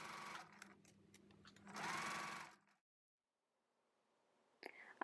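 A sewing machine runs top stitches on a summer party dress, its rapid whirring run sped up so it sounds oddly high and quick, loud for a few seconds before cutting off into quiet, then a brief click.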